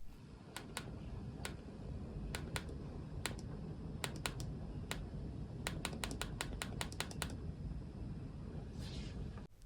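iPhone SE home button pressed repeatedly, producing sharp, faint, crisp clicks in irregular bursts against a quiet background.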